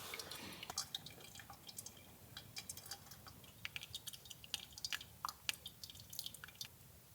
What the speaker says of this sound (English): immediately you can smell the coffee fumes when the water hits the grinds.